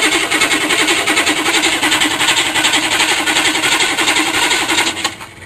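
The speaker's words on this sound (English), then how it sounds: "Let's crank this baby over and see what she sounds like." A 6.2 diesel Suburban engine cranks over on its starter with no power to the glow plugs or injection pump, giving a slow, even rhythmic churning that continues for about five seconds before stopping.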